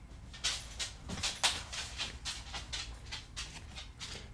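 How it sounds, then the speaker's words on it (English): Dogs move around indoors in the background during card making, with soft quick paw patters and light clicking footfalls in an irregular rhythm, fairly faint and without speech. "You probably hear my doggies running around here in the background."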